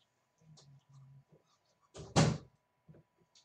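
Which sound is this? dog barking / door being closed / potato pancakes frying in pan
door being closed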